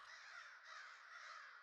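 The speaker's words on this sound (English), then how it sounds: "Notice our crows are crowing for quite a while." A crow caws in a looping ambient sound effect placed on a Foundry VTT battlemap of a lumber operation, two long harsh calls in succession, clear and alone, fairly faint.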